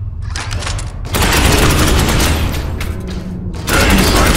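Heavy weapons fire in the video game Space Hulk: Ascension, a loud, dense stream of gunfire bursts that pauses briefly around the middle, then resumes just as loud.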